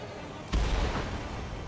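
Missile launch and explosion in the combat flight game Ace Combat 7: steady background hum, then a sudden loud boom at about half a second that rumbles on, with radio chatter in the background.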